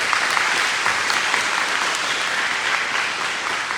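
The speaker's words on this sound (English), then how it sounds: "So big round of applause for him for coming out." Full, steady round of applause from a crowd at a high school band concert, loud and continuous, easing slightly toward the end.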